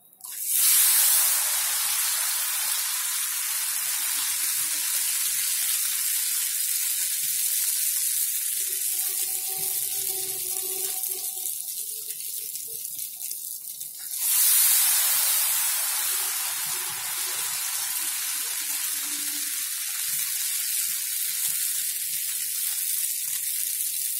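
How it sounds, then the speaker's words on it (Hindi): Ghevar batter poured into hot ghee erupts into a loud, hissing sizzle that holds steady, then a second pour brings another fresh burst of fierce frying hiss. "मैं दोबारा से बैटर डालती हूँ"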